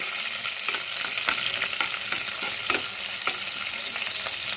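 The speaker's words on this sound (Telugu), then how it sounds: "పచ్చిమిరపకాయలు వేసుకోవాలండి. పేలుతున్నాయి, నా మీద పేలుతున్నాయండి." Green chillies frying in hot oil, a dense continuous sizzle close up with sharp pops and crackles scattered throughout, with no talk.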